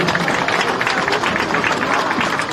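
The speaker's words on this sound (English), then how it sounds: "we still have to give her a round of applause" Crowd applause in a high school game gym, a dense continuous wash of clapping with a murmur of voices mixed in, steady and close for the whole stretch.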